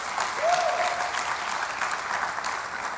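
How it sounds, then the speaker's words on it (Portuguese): A church congregation applauds during a sermon, a dense, steady wash of clapping from many hands filling the room throughout. "Você pode aplaudir a Jesus mais uma vez?"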